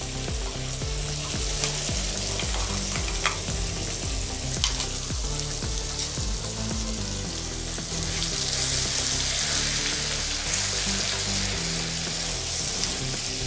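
A paste of onion, garlic, tomato and green chili fries in a pan with a loud, continuous sizzle, broken by scattered stirring scrapes and clinks.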